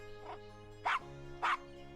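A small dog in the Gabriel Knight: Sins of the Fathers game gives two or three short, sharp barks spaced about half a second apart over a low music bed.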